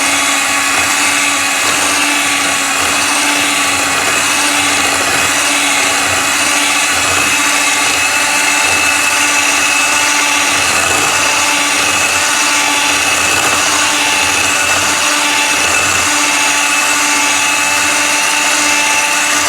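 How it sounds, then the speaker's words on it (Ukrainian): Electric mixer or blender whisking precooked boiled pumpkin into eggs beaten with sugar until smooth, a steady close motor whir running unbroken throughout with no talk. "Попередньо відварений гарбуз додаємо до наших яєць і з цукром збитих взбиваємо до однорідної консистенції"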